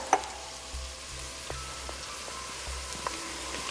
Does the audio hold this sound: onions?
yes